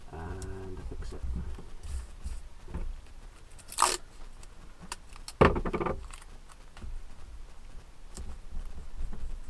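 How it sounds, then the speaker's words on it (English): Masking tape is pulled from the roll and pressed down to hold a vinyl window text decal. Two short, sharp tearing rips stand out against quiet handling noises and faint rustles. "then we take some masking tape"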